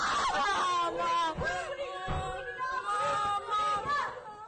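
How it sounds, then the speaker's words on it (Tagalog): Students cry and scream during a school shooting at San Jose National High School in Tacloban City, overlapping wailing and shrieking voices forming a frantic, continuous crowd of distressed cries. "Umalingaw-ngawang iyak at sigaw."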